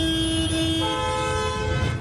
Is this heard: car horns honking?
yes